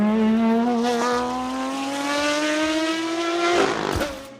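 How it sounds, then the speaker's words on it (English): A Maserati MC12's 6-liter V12, shared with the Ferrari Enzo, screams loud and close as it climbs steadily through the revs in one long rising wail, then snaps off into a quick shift and drop. "The MC12 uses the same 6-liter V12 as the Ferrari Enzo, but it sounds different."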